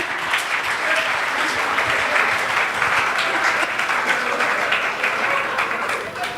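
Audience applause with laughter from a crowd at a live storytelling or comedy performance, a dense steady wash of clapping sustained throughout at even loudness without pause.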